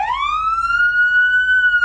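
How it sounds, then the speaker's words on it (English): A cartoon fire truck siren in the Pocoyo PlaySet learning game: a single loud tonal wail rising in pitch and then holding steady, clean and alone. "Loud fire truck"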